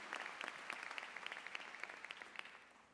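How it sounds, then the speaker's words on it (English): Applause at a law school commencement for Florida's Attorney General: many hands clapping steadily from a distant crowd, faint and tapering off near the end. "give him a round of applause"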